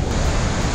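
Victoria Falls thunders at its plunge pool in a dense, continuous roar of falling water, loud and close, over a brief moment.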